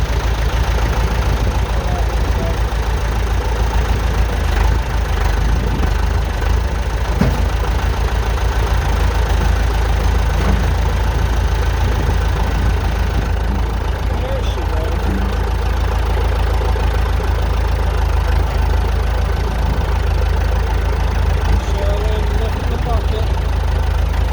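A 1969 Massey Ferguson tractor idles steadily with a low, knocking rumble while its bucket is raised, the engine loud and close throughout, with occasional talking partly buried under it.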